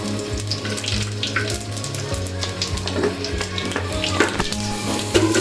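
Whole cumin seeds dropped into hot oil left from frying potatoes, in a pot for chicken and potato curry, crackle in a steady, loud, dense sizzle with a continuous low kitchen hum beneath.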